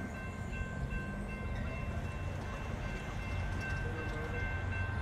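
Freight train rolling past steadily at a distance, a continuous rumble with faint wheel noise and a thin high whine throughout.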